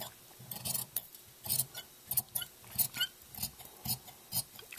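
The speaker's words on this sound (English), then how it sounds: "But then I want to cut my sleeve." Scissors cutting fabric for a flared sleeve, a run of rhythmic crisp snips and soft rasps, close and clear with no talk.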